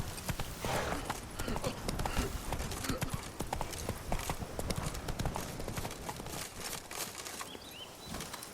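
Horse hooves clip-clop steadily at a gallop in The Witcher 3: Blood and Wine, a dense rhythmic clatter running throughout alongside game ambience and a talking voice.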